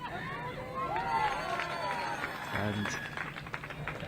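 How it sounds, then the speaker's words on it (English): Swiss supporters at the European Touch Championships 2022 touch rugby match cheer and shout in a noisy crowd, their calls rising and falling under a commentator's voice. "they're cheering every single touch that the Swiss team make"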